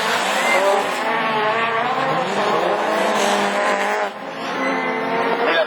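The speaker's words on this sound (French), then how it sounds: "Beuzard avec le moteur Cagliosi et la boîte 3-0" A rallycross race car with a Cagliosi engine screams past at high revs, its loud, sustained engine note rising and falling with gear changes and tire noise, while an excited commentator talks over it.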